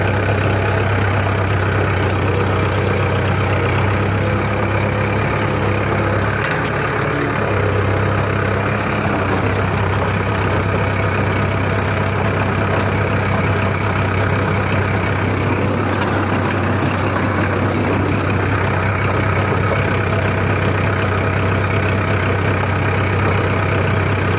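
A tractor engine runs a rotavator at 1400 rpm, producing a steady, loud, unbroken mechanical drone with a strong low hum that holds constant throughout.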